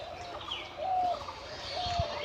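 A spotted owlet chick gives thin, wavering calls against a faint outdoor hiss, with short pauses between the calls.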